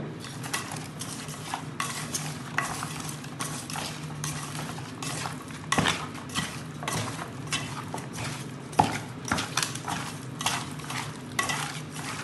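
Chicken being mixed by hand or spoon with a salty masala marinade in a bowl: continuous wet squelching and stirring with occasional clinks against the vessel, close and fairly loud, no speech.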